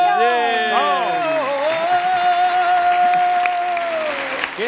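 Applause breaks out for a performer at a stage show, steady clapping from a crowd beneath a loud, sustained voice shouting or singing over it.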